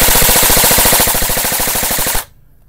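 A G&G airsoft rifle with a very short inner barrel, shooting about 400 FPS with no ETU or MOSFET, fires one loud, rapid full-auto burst. The burst lasts just over two seconds and stops abruptly into near silence.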